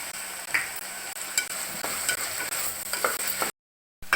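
Onions and ginger garlic paste sautéing for vada curry, a bright continuous sizzle with repeated spoon scrapes and clacks against the pan, then a brief cut to silence before the stirring resumes.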